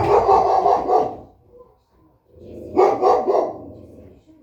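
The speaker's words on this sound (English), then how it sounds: "Bit of angry dog there." An angry dog barks close and loudly in two rough bursts separated by a short quiet gap.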